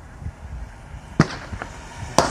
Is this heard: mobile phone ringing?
no